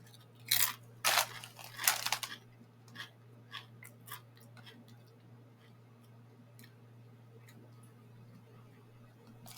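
Someone eats crunchy ketchup-flavored Doritos chips, giving several loud, close crunching bites early on that fade into softer chewing over a steady low electrical hum, no talking.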